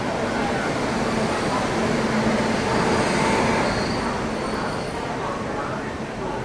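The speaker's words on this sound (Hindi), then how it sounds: "4:17 वैप 7 के साथ यहाँ पहुँच रही है अपनी मंगला लक्षद्वीप एक्सप्रेस।" The Mangla Lakshadweep Express pulls into a station platform behind a WAP-7 electric locomotive, a loud, continuous rolling rumble of wheels and coaches that swells slightly midway and eases toward the end.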